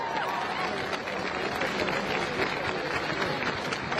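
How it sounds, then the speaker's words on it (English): A crowd at a street protest gives sustained applause. Dense clapping mixes with cheers and the babble of an outdoor gathering, loud and steady from start to finish. "please, please give her a round of applause."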